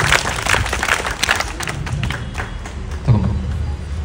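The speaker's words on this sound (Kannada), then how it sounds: "ಜೋರಾಗಿ ಚಪ್ಪಾಳೆ." Loud applause from a crowd of schoolchildren at a government school event in Nelamangala, dense rapid clapping filling the space, swelling near the end.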